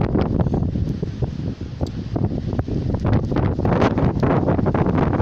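Strong storm wind buffets the microphone in a continuous loud roar, with gusty surges and rumbling throughout and no voices.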